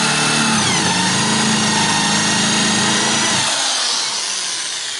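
A power drill bores into wood while building a wooden porch swing, a steady loud high-pitched whine with a lower motor tone that winds down near the end.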